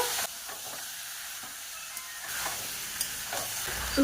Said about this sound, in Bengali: মাংস মশলাকে বেশ কিছুক্ষণ ধরে কষে নেব।